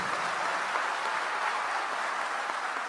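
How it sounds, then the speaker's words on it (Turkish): A crowd at a political party rally applauds, a dense, steady wash of clapping that holds at an even level throughout with no voices on top. "Buradaki kardeşlerime güzel kocaman bir alkış istiyorum annelerimize."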